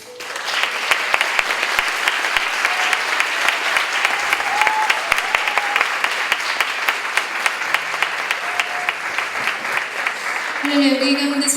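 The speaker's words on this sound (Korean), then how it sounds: "함께 축복의 박수 하도록 하겠습니다" A youth congregation in a church sanctuary applauds as a pastor comes forward, a long, loud, sustained wash of many hands clapping with occasional sharper claps, some voices and tones entering near the end.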